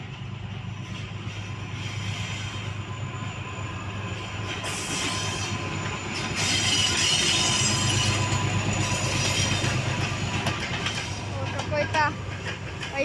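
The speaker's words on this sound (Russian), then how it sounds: "Ребята, поезд едет!" A freight train hauling military equipment rolls past outdoors, a loud continuous rumble with rattling wagons and faint wheel squeals, while voices talk over it.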